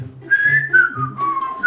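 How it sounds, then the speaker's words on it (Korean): A person whistles a short wavering tune, clear and close, with no talking. "휘파람을 불어라"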